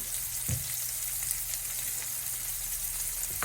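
Shrimp with Cajun seasoning and crushed red pepper fry in a pan, making a steady close sizzle broken by a few clinks and scrapes as the pan is stirred, with no talk.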